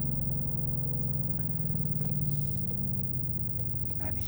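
A 700 hp 2020 Ford Mustang GT switched into sport mode, its engine producing a steady deep rumble with a slight swell in revs, close and loud with no talk.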